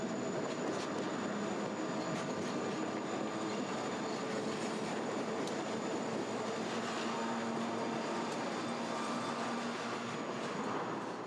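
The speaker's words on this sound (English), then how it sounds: "the work train heads out of the west end of the siding to resume dumping track ballast west of Drynock" A work train hauling track ballast pulls out of a siding in Thompson Canyon, its cars rumbling steadily with faint wheel squeals and clicking over rail joints, heard from a distance without any talk.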